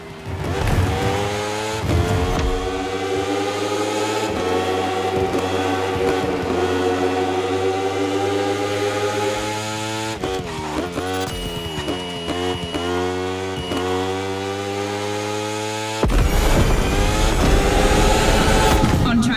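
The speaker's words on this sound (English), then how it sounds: "This evening, the KTM RC16 takes on the Ferrari 488 GT3." In a racing video game, a KTM RC16 motorcycle and a Ferrari 488 GT3 race around a circuit, with engines whining up and down through gear changes, loud and continuous, and tyres occasionally squealing.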